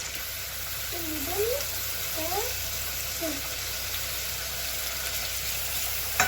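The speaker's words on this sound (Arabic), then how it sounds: "هنزل بالبصلايه المبشوره" Grated onion fries in a pan with a constant soft sizzle and a few brief stirring scrapes near the start, and no one speaks.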